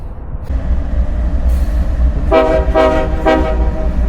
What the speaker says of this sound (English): I think I hear a train coming.